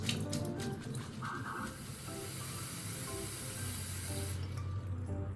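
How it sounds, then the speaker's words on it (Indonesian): Fresh spinach leaves being washed under running water in a kitchen sink for pesto pasta, a steady rushing hiss of tap water with light splashing throughout, no talking. "Kita harus cuci sampai sayurnya benar-benar bersih."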